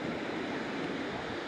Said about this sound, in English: the wind started coming out of the west, and it's making the waves rougher